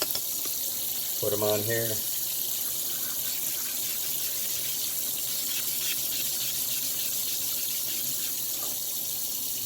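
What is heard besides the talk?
running water wetting magic erasers at tap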